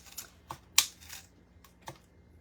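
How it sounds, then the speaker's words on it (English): Hart scissors snip through craft material for a Dollar Tree decor project, giving a few separate crisp snips spaced irregularly over two seconds, one louder than the rest, close by with no talking. "I'm just using these Hart scissors"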